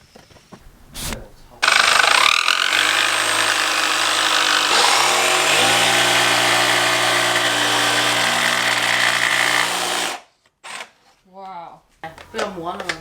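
Power tool grinding wood for a DIY SUV car bed, a loud continuous whirring grind running for several seconds, preceded and followed by people talking nearby.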